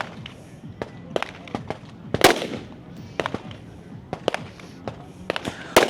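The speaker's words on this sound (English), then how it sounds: "12 shots with your rifle, then 12 shots with the pistol" Rifle and pistol shots ring out at an elite shooting competition, a string of sharp separate cracks spread irregularly across six seconds, one louder close report among fainter distant ones, with no clear talk.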